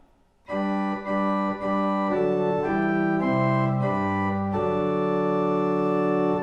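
Sustained pipe organ chords from 8-foot and 4-foot principal stops, steady foundation tone with a bright octave layer above, changing harmonies every second or so, full and resonant with no voices.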